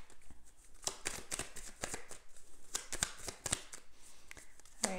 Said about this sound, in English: I'm gonna shuffle some cards